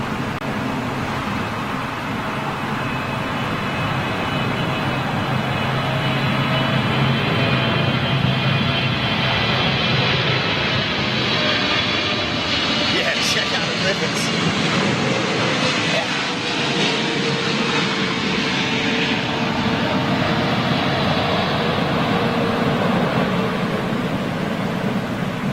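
A heavy jet airliner departs past the camera near a home, its broad engine roar swelling through the middle and holding steady, moderately loud, with a brief voice now and then.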